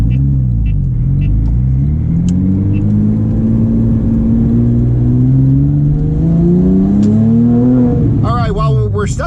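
A Porsche 997.2 GT3 RS engine drones loud and close while driving, its pitch rising steadily through the gears, then revving sharply near the end under a speaking voice.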